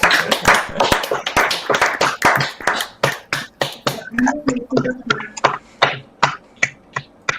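A small online group gives Rob a round of applause, close, sharp individual claps, dense and overlapping at first, then thinning into spaced single claps with a brief murmur of voices underneath.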